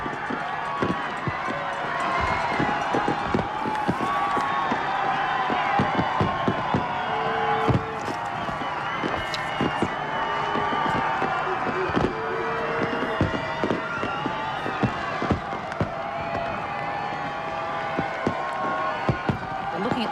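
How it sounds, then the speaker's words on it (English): Fireworks over the Brisbane River at South Bank for the 2000 New Year pop and crack in rapid, irregular bursts over a constant roar of a large crowd chattering and cheering. "Fireworks there over the banks of the Brisbane River from the vantage of South Bank."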